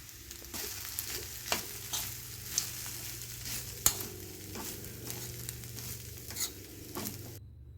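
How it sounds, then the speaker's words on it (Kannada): Cooked rice is mixed into mango chitranna in a pan, with soft scraping stirs and faint sizzling, punctuated by a few sharper spoon clinks at irregular intervals, close by and quiet. "ಇವಾಗ ಅನ್ನ ಹಾಕಿ ಕಲಸೋಣ"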